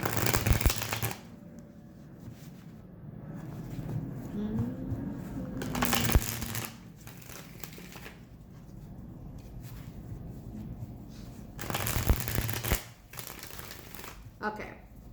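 Tarot cards shuffled in several short, crisp riffling bursts spaced apart, close and fairly loud, with someone talking quietly between them.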